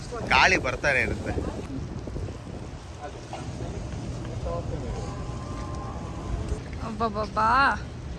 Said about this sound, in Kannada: ಗಾಳಿ ಬರ್ತಾನೆ ಇರುತ್ತೆ.